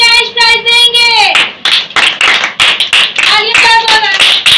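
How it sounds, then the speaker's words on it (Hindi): Applause from an audience of children at a kids' ministry competition, dense clapping close by, with a voice and children's voices rising over it at times. "जोरदार तालियां चाहिए कृष्णा के लिए"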